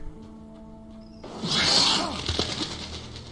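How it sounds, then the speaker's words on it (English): In Alan Wake, a bird jump scare erupts as a sudden loud flapping, shrieking burst that cuts through quiet ambient tones, swelling close and harsh before trailing off into rustling. "Fucking bird jump scare."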